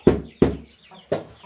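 Three sharp, loud knocking thuds land in an uneven pattern close by, sounding more like pecking or tapping near young chicks than clucking.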